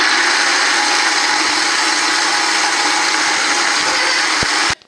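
A blender runs at full power, whirring steadily as it purées a spinach filling for Turkish borek, loud and continuous before cutting off abruptly near the end.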